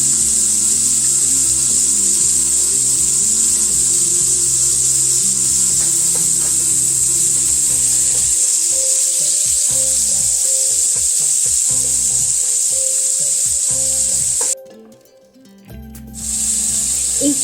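Beef stew meat browning in a pan over medium-high heat gives a steady, close, bright sizzle that runs almost unbroken, dipping briefly near the end before resuming.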